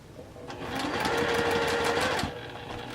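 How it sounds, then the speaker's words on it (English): Close up, a sewing machine stitches a half-square triangle quilt block in one steady run of about two seconds, its whirring motor and rapid needle chatter rising and then easing off. "Align your fabric if you can."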